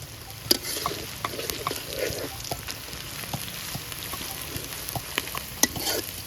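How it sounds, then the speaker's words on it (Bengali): Bay leaves and garam masala frying in a pan give a soft, steady sizzle with light crackles and occasional clinks of a stirring spoon, heard up close and fairly quiet. "প্রথমে দিয়ে দেবো তেজপাতা আর গরম মশলা।"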